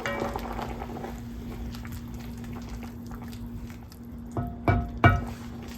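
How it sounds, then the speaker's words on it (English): A pot of soup with broccoli bubbling steadily at a low boil, with a few louder clinks and bumps near the end. "Okay, it's boiling away."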